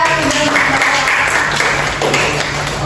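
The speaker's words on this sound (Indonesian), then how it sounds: "Beri tepuk tangan untuk Andika." Classroom applause from students during a teaching practice lesson, a steady dense wash of clapping that fills the whole stretch with a faint voice or two mixed in.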